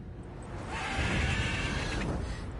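A horse, a mare, whinnies in a long, high neigh over a dense, rumbling background of noise in the video game The Witcher 3: Wild Hunt.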